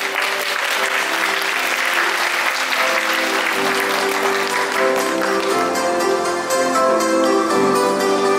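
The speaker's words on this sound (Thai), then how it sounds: "ขอเสียงปรบมือดังๆต้อนรับด้วยครับ" A crowd at a beauty pageant opening in Chachoengsao applauds continuously, dense steady clapping with music playing beneath it, loud and sustained throughout.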